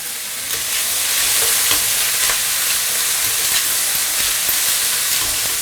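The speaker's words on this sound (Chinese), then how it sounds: "开最大火给它翻炒一下，炒出来了。" Clams tossed and stir-fried in a hot wok over maximum heat, a steady loud sizzle and hiss with scraping clatter of the spatula, no voices.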